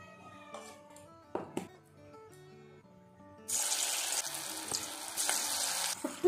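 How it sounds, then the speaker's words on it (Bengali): Small pakoras drop into hot white oil in a kadai, and after a quieter start with faint music and clinks, a loud, close, bubbling sizzle takes over and keeps going. "ছোট্ট ছোট্ট করে আমি পকোড়াগুলো ভেজে নেব।"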